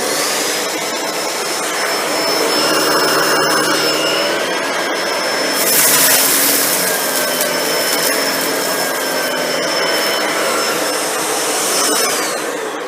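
A Shark NV801 upright vacuum cleaner runs steadily and loudly up close for the whole stretch, its motor whine swelling briefly midway as it is pushed across the floor, with no talking.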